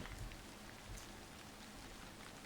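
Steady rain falls in the Hashihime of the Old Book Town video game, a soft continuous patter of drops with scattered louder taps, faint and with no one speaking.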